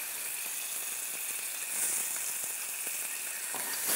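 Chicken fries in a pan with ginger and garlic, giving a continuous close sizzle with a few soft stirring clicks throughout.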